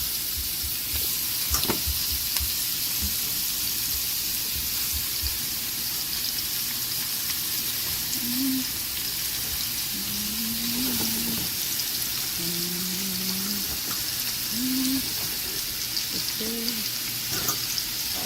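Shrimp sizzle in a hot frying pan with a constant close crackling hiss like rain on a surface, with a few faint tonal squeaks over it and no talking.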